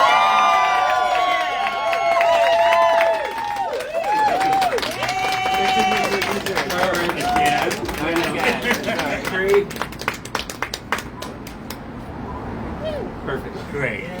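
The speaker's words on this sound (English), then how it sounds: "Can we get some applause?" A crowd at a star unveiling event applauds and cheers, with clapping, whoops and shouted voices mixing in a lively outdoor gathering, then thinning toward scattered claps.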